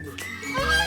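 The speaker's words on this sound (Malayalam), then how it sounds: "ഇതിൻ്റെ പേര് വാത്താന്നാട്ടാ ഇത് ഭയങ്കര ശബ്ദം ഉണ്ടാക്കും" Domestic geese honk loudly at a family gathering on a college campus, a couple of harsh calls rising over a background of children's voices.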